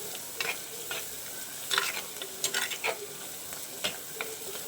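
Sambar powder fries quietly in a pan for a fish curry, giving a soft steady sizzle with a few sharp spoon scrapes and taps over it.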